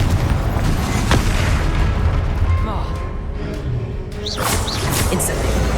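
Confringo fire spell explosions in the video game Hogwarts Legacy go off as deep booming blasts, with one sharp hit standing out over a dense, continuous wash of game sound.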